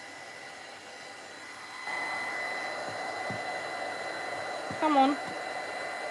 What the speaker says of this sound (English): You can see the gesso dries quickly when you use the heat gun,